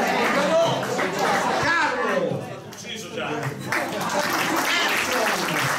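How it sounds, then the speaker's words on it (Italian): A crowd applauds at a historical costume performance about Ludovico il Moro, dense clapping under voices and chatter, loud and close, dipping briefly midway before picking back up. "accogliete tutti con un grande applauso"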